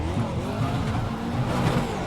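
Video game supercar from the 2000 to 2003 era pulling away from the start with its tires spinning, a steady loud engine roar with squealing wheel spin running on without a break.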